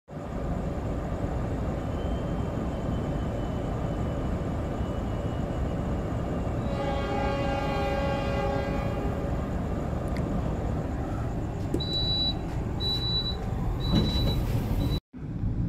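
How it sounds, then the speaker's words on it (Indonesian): Inside the Lodaya executive stainless steel passenger train running from Bandung to Solo Balapan at night: a continuous low rumble of wheels and carriage, with steady rolling noise, faint clicks and brief high tones near the end. "kereta api Lodaya dari Bandung ke Solo Balapan ini, kereta 94 ini masih menggunakan rangkaian yang lama ya"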